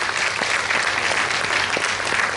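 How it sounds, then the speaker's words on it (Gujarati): A hall audience at the inaugural session of a Gujarati literary gathering in Bhuj breaks into dense, sustained clapping, loud and close, with no voices over it. "આ હોલ એમને તાળીઓના ગડગડાટથી વધાવી લે છે."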